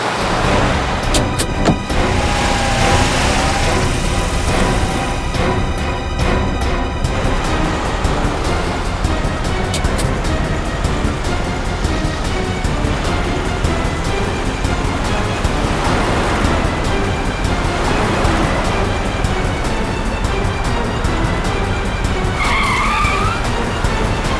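A car driven recklessly in a TV crime drama scene: a loud engine roars with screeching, skidding tyres, sustained and busy for the whole stretch with no voices.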